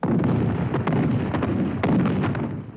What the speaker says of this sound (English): An artillery barrage opens the attack.